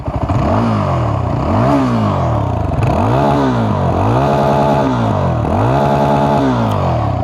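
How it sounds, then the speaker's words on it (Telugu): A 2026 Yezdi Scrambler motorcycle exhaust, loud and close, with a lumpy idle rising into repeated revving swells that climb and fall several times. "ఫ్రెండ్స్ ఒకసారి ఎగ్జాస్ట్ సౌండ్ వినండి"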